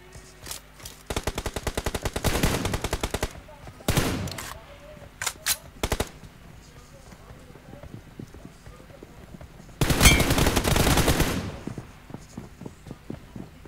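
Gunfire from a shooting video game comes in bursts of rapid automatic shots, several loud volleys separated by quieter gaps, with a person talking over the action.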